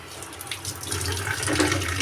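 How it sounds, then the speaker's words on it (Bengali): Tap water runs steadily into a sink to soak freshly cut eggplant in a home kitchen, a continuous close splashing stream with no talking. "বেগুনটা ভিজিয়ে রাখি এই যে বেগুনটা ভিজিয়ে দিলাম"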